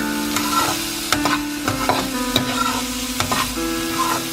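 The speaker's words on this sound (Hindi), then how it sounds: "अब इसको अच्छे से मिक्स कर देंगे हम।" Vermicelli upma with carrots and boiled peas sizzles in a pan while a spoon stirs it, with a constant frying hiss broken by repeated scraping strokes at a steady rhythm, loud and close.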